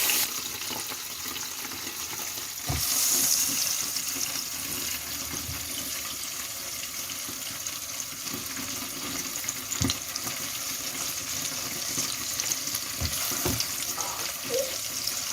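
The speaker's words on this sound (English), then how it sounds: "I turned the aubergines to fry well." Salted aubergines fry in a pan with a steady, moderate sizzle and occasional soft knocks and scrapes as they are turned.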